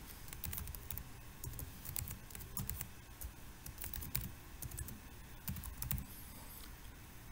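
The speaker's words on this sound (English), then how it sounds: "So if you type Smith" Fingers tap steadily on a computer keyboard, a close, brisk run of light clicks and key presses over a faint background hum, with no voices.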